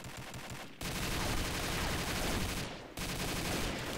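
Dense rapid gunfire in the video game Combat Arms, loud continuous automatic bursts broken by two brief pauses, without talk.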